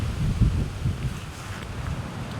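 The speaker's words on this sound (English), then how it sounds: "It's windy, nasty, and so forth." Wind buffeting a microphone outdoors on a November deer hunt, low rumbling gusts strongest at the start and easing slightly, with faint rustling in the background.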